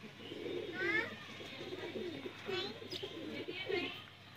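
Soft, repeated coos of black-faced Sialkoti pigeons over a steady outdoor hiss, faint and a little distant, with low murmuring in the background.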